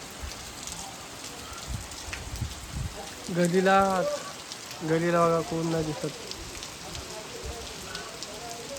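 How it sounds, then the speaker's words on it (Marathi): Heavy monsoon rain patters steadily on surfaces in a village lane, a continuous hiss under a man's nearby speech. "बघा कसा पाऊस चालू आहे जोरदार एकदम."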